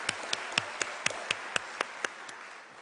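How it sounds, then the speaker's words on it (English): Graduation ceremony audience clapping in an even rhythm of about ten crisp beats that fade slightly toward the end, heard faint and from a distance in a large hall. "I think that deserves a round of applause."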